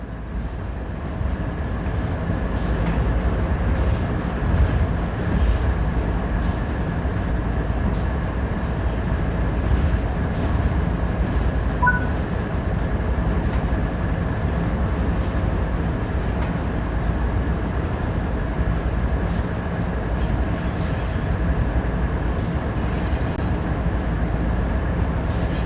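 A BNSF ES44C4 diesel locomotive in Train Sim World 5 rolls slowly toward a coupling, a steady rumbling drone with faint rail clicks and squeaks, continuous and unaccompanied by speech.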